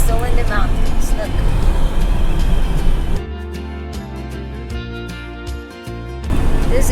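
A car drives along an empty mountain road in West Virginia, its steady, loud interior road roar filling the first half before dropping to a quieter, smoother hum with faint tonal sounds over it.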